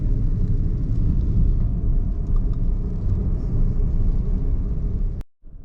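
A car driving a mountain country road on Highway 146 toward Utuado, Puerto Rico, gives a steady loud interior road rumble and tire roar that cuts off abruptly near the end.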